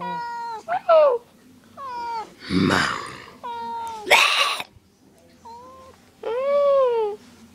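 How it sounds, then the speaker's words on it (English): A cat meows repeatedly, close and loud, with drawn-out, wavering cries separated by short pauses and a couple of breathy squeals. "why you meowing?"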